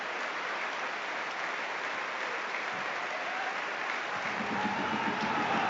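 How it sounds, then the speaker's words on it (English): Stadium crowd at a Hibernian versus Dundee United League Cup quarter-final football match applauds in a sustained, even wash of clapping that carries on without a break. "a round of applause here for John McNabb"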